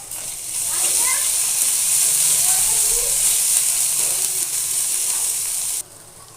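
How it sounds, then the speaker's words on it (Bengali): Ginger and garlic spice paste frying in a pan, a loud steady sizzle with faint stirring scrapes that runs for several seconds and then drops away near the end. "মশলাটাকে এখন ভেজে নিচ্ছি"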